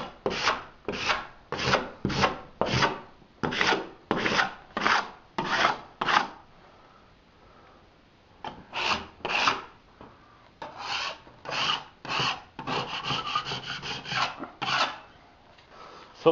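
A blade scrapes ridges and high spots off dried drywall joint compound in a room under renovation, a close series of rhythmic rasping strokes, a short pause, then faster repeated scrapes, with no talking.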